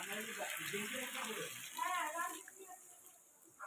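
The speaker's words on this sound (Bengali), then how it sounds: "এবার জল ঢেলে দেবো" Water pours into a cooking pot of chicken curry, a brief splashing gush near the start that fades, with a faint voice in the background.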